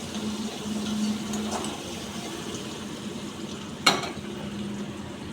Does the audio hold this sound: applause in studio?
no